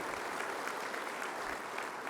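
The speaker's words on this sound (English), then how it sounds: "give him a round of applause for also hosting this conference here" A conference audience gives the dean a steady round of applause in a large plenary hall, dense even clapping at moderate distance with no voices.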